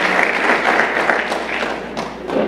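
Audience applause for an educational unit at a church sermon, a continuous dense clapping from a crowd that holds steady throughout, fairly loud and with no talk over it.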